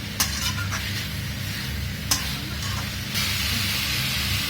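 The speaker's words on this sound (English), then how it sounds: "so I'll give it a little bit more stir" Masala for Mangalorean pork curry is stirred in a pan: a soft steady sizzle and hiss underneath, broken by a couple of sharp spoon scrapes against the vessel, with no speech.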